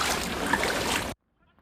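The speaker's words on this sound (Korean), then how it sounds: "물이 성인 허벅지 높이까지 차올라 걸음을 옮길 때마다 첨벙첨벙 소리가 납니다" Footsteps wading through thigh-deep floodwater in a flooded residential parking lot, giving a continuous churning slosh for about a second before cutting off abruptly to near silence.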